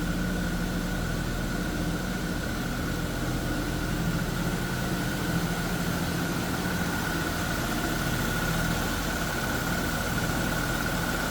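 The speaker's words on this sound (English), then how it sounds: "I'm going to slip around to the back just so you can hear it on the low idle" A 1977 AMC Pacer's 256 cubic inch inline six sits at a low idle, heard from behind the car as a steady, even rumble with a faint whine on top, unbroken and alone for the whole stretch.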